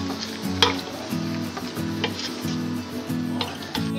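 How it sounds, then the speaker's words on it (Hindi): Spices with chopped tomato and green chilli stirred in a pot for Pakistani beef stew, a steady sizzle broken by rhythmic scraping strokes of the spoon and occasional clinks against the pot, close and fairly loud. "मसालों को मिक्स कर लिया अच्छी तरह।"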